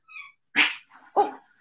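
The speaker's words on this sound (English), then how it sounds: "Oh, the cat and the dog are fighting." A dog barking at a cat during a scuffle, giving two sharp, close barks with a short yip before them.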